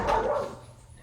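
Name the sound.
dog barking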